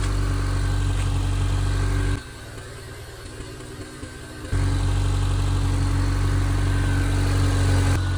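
A Honda car engine with new exhaust pipes runs loud and steady, drops to a lower idle for a couple of seconds, then surges back up to a sustained rev.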